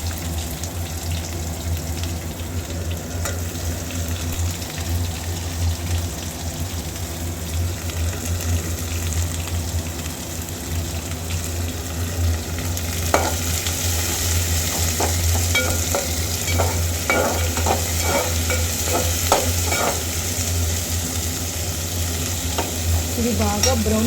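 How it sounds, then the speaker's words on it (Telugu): Onions cut into large pieces and green chillies fry and sizzle steadily in a pan, a constant close hiss with occasional stirring scrapes and clicks toward the end, no talking. "ఇది బాగా బ్రౌనిష్ కలర్ వచ్చేందుకు వేగాలి"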